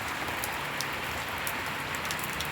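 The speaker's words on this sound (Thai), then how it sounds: "ฝนอาจจะไม่หยุดครับคืนนี้ครับ" Heavy storm rain pours steadily at night in Surin, Thailand, a dense, continuous hiss of drops striking surfaces with scattered louder splashes, close and unbroken, with no talking.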